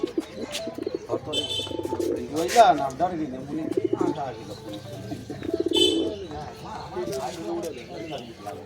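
Pigeons at a home loft coo in low, repeated throaty bursts close by, with a few chirps, while people talk over them.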